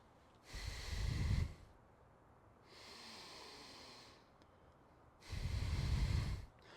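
A person imitates loud breathing with three long, heavy, noisy breaths, two strong snorting exhales around a softer one, close and unaccompanied.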